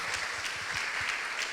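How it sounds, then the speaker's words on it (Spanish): A church congregation claps at a worship service. The applause is faint and rhythmic, with a soft steady patter and a few audible beats, heard briefly at a distance. "Dale un aplauso al Señor."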